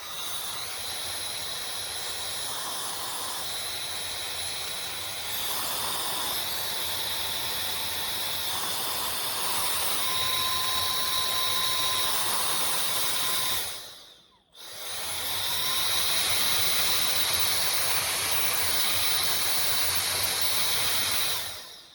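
A cheap marketplace electric air blower runs with a loud, steady, high-pitched rushing whine. Its pitch shifts slightly as it goes. Near the middle it cuts out briefly, then spins back up to full blast.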